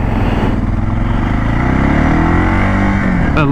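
A Suzuki DR650 single-cylinder thumper motorcycle accelerating, a loud continuous close engine roar with a rising pitch as the bike pulls through the revs.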